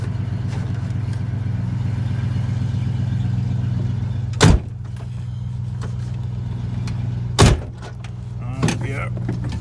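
A car door with a faulty lock slams twice without shutting against a steady engine idle, with a smaller clunk shortly after, the impacts sharp and close.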